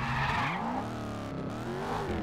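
A car in a Gangster Vegas game skids with loud, sustained tire squeals over engine noise, the screech rising and falling as the vehicle slides.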